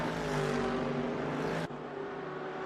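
Race car engines in a racing video game, an endurance event at Portimao, drone at high revs as the cars pull out of turn 4, holding a steady pitch before one sharp drop near the end.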